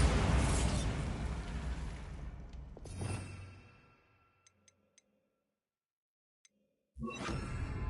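The Bombarda spell in Hogwarts Legacy going off, a loud close whooshing blast that rumbles and fades over a few seconds, followed by a few faint clicks and then another burst of rushing noise.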